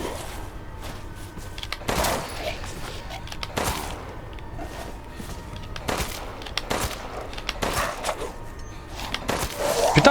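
Gunshots ring out in the video game Resident Evil Village, several sharp bursts spaced a second or two apart over a busy game soundtrack, fairly close and loud.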